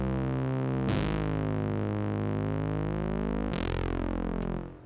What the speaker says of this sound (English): I'm using this patch Synth Brass in the CS80 by Arturia.